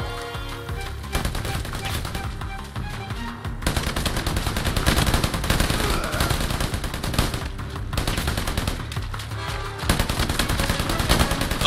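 Dense, continuous gunfire from AI enemies in Predator: Hunting Grounds, rapid automatic bursts and overlapping shots rattling loudly without pause, with no voices over the shooting.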